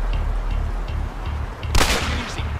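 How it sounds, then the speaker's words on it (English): Gunfire in the video game Battlefield Hardline: a sharp, loud shot bursts out over a rhythmic, pulsing low game soundtrack, with a faint echoing tail and no talk. "Gunfire!"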